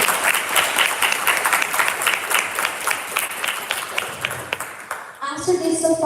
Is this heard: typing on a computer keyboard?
no